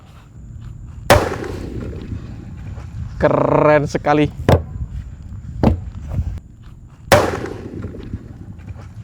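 An imported firecracker goes off in a big drum with sharp, loud bangs near the start and again later, each followed by a ringing metallic tail, while people nearby talk and react between blasts.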